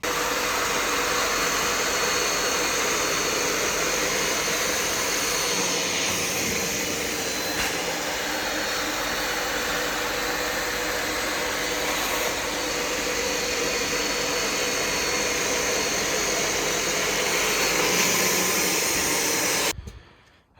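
A vacuum cleaner sucks dirt out of a car seat during interior cleaning of a Suburban, a loud, steady, close roar running unbroken for about twenty seconds before cutting off abruptly.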